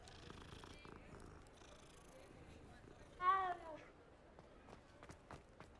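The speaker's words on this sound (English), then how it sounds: "The cats sound so weird in this game" A cat in the video game Hogwarts Legacy gives one short, loud meow in the middle, with faint purring and quiet game sounds around it.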